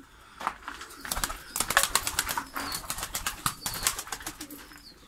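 A Diyarbekir white pigeon tumbling in flight, its wings clattering in quick flurries of sharp flaps, close and fairly loud over a soft outdoor background.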